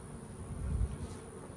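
Honeybees buzz in a steady low drone at an open hive, with bees stuck in a hole in the frames. The hum is faint and continuous, swelling briefly midway, with no voices.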